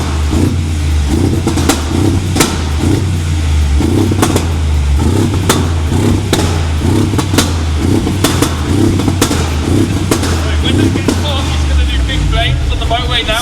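A loud Mercedes G63 idles with a deep, rumbling burble punctuated by repeated sharp blips and cracks, close and continuous, while people talk over it.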